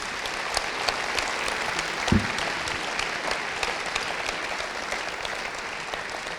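Steady applause from an audience at a university lecture hall conference with judo champion Teddy Riner, a dense even patter of many hands continuing for several seconds, one brief low thump partway through.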